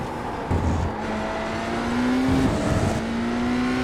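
BMW race car in the iRacing video game, its engine droning steadily with rising tone as it accelerates, a shift break midway, then climbing again, loud and continuous with no talk.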